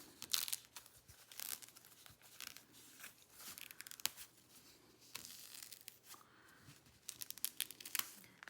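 Quiet crinkling and tearing of thin water-soluble embroidery stabilizer film, in irregular bursts of small rips and rustles, close by with no voices.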